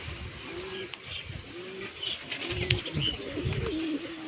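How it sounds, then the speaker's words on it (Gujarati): Pigeons coo in repeated low, throaty phrases close by, with occasional chirps and a brief flutter of wings in the background. "બાકી બધા કબૂતર અહીં બેઠા છે"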